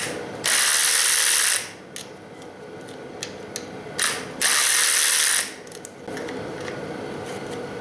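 A hand ratchet works E-Torx screws loose on the valve cover of a BMW N20 engine, heard up close as two long, loud bursts of rapid clicking with softer handling noises between them.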